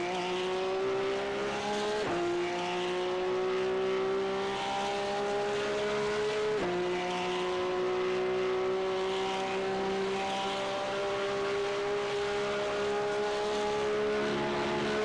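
A raspy race car engine from a racing video game holds a steady, buzzing note through long pulls with two sharp shifts, loud and continuous with a faint tire squeal and no talk.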